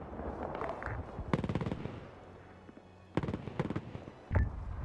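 Gunfire in a video game battle: sharp rattling bursts of automatic fire and a heavy thump, fairly faint, with quiet gaps between volleys.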